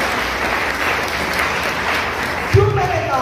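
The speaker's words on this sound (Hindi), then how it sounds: "मैं चाहूंगा ऋषि सर के लिए एक बार जोरदार तालियां होनी चाहिए" A crowd claps in a dense, steady burst of applause, then a voice briefly cuts in near the end.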